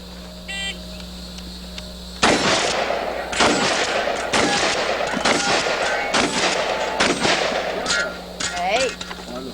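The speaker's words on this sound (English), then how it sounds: "Here we have the shotgun portion of our GRA action shooting match with Mark Waldo." Shotgun blasts fire in a rapid, loud string of sharp booms at a GRA action shooting match, close by, with a pause before the first shot and voices briefly audible at the end.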